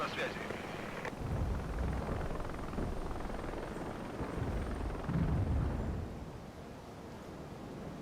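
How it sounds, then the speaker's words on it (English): Mi-24 attack helicopter in the war game Regiments flying a low pass, a steady rumbling rotor and engine drone that swells and fades with a louder surge midway, mixed with distant battle noise. "We'll do a quick fly around with the Mi-24."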